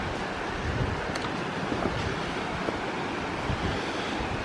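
A small waterfall cascade at Shangri La Falls in Bankhead National Forest, Alabama, running at low flow, gives a steady, broad rushing wash of water throughout, close and continuous, with no voices.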